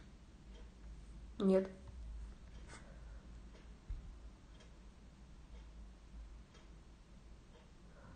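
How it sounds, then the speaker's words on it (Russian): A clock ticks steadily and faintly in a quiet room, its soft regular clicks running under low background noise, with a brief spoken word near the start. "Аж часы слышно, да, они постоянно так."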